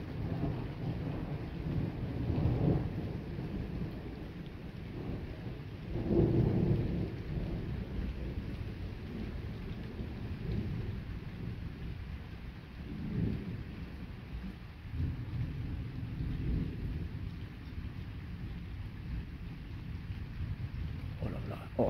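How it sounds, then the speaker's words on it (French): A violent, highly electric summer thunderstorm: steady heavy rain hisses throughout while several deep rumbles of thunder roll in and swell at intervals, with occasional voices faintly underneath. "C'est pas souvent qu'il y a des orages aussi électriques ici."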